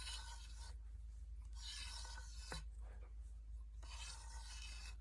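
A pipe cutter turns around a pipe, its cutting wheel scoring the surface in three long, steady rasping sweeps with short pauses between, close up and alone over a low background hum.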